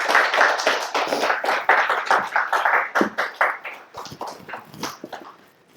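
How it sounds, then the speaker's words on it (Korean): A congregation at a Thanksgiving Sunday church service claps in celebration, a lively burst of many hands, individual claps distinct and fairly brisk, gradually thinning and fading out toward the end with no talking. "우리 축하의 박수를 해주시죠."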